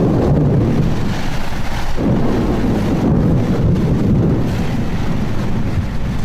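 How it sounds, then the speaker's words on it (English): A lightning storm with strong wind at sea off Sardinia, heavy gusts buffeting the microphone in a continuous loud roar, with deep low rumbling and no talk heard. "soon lightning is breaking directly overhead"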